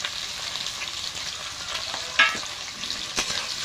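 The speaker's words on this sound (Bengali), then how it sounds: "এগুলো নাড়াচাড়া করে ভেজে নেব। পেঁয়াজ রসুনটা একটু ভেজে নিয়েছি" Chopped onion and crushed garlic frying in hot oil for a mutton curry, an even crackling sizzle up close, broken by a few sharp spatula scrapes and clacks as the pan is stirred, with no talking.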